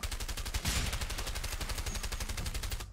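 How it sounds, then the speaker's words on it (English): An M60 machine gun in the video game A Way Out fires long rapid bursts, sharp evenly spaced shots rattling loudly and continuously for about three seconds. "Is that like M60 or something shooting me from there?"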